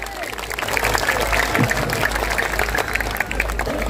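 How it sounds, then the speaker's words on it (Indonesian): An audience at an Islamic religious gathering in Kendal claps together in a dense, sustained round of applause that fills the whole stretch, with some crowd voices mixed in. "Tepuk tangan semuanya"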